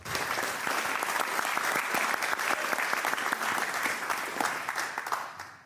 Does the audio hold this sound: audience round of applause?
yes